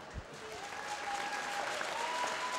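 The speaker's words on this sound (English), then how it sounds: "have a massive round of applause for our gold medalist" Steady, dense crowd applause for a gold medal swimmer at a British swimming championships, filling the arena evenly throughout, with a faint voice briefly audible beneath the clapping.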